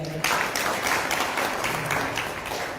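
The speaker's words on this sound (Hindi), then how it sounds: "एक बार जोरदार तालियां" A crowd bursts into loud, sustained applause, many hands clapping together in a dense, even roar that carries on to the end.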